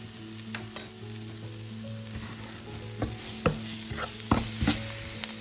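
Ground spices and garam masala frying in a pan for dry cauliflower masala, a soft sizzle punctuated by repeated sharp scrapes and knocks of a spoon stirring.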